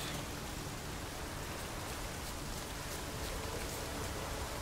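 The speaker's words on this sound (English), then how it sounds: "Looks like rain." Steady rainfall in The Witcher 3 video game, a continuous even patter and hiss of rain with faint drops, ambient and unbroken, no voices.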